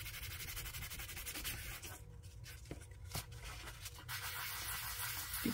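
A sanding sponge rubs steadily back and forth across a shiny paper business card, a soft continuous scratchy hiss with a brief pause midway, close by.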